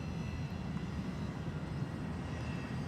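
Thai Smile airliner taxiing out for departure at Bangkok Suvarnabhumi Airport, heard as a faint, steady engine drone at a distance with no other sounds.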